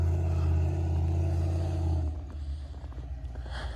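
A crawler truck's engine drones loudly as it rock crawls up onto a gooseneck trailer, then drops away to a quieter, uneven rumble with faint clanks.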